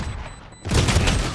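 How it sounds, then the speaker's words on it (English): Missile launch in the shooter game Valorant, a sudden loud burst of rumbling, crackling blasts that starts partway through, after a quieter lead-in with a faint high tone. "All missiles away."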